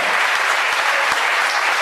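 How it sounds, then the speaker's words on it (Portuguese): Worshippers at an international miracle crusade clap joyfully for Jesus, a bright, energetic wall of many hands with a few distinct claps popping through, filling the whole short moment without speech. "Palmas bem alegre para Jesus."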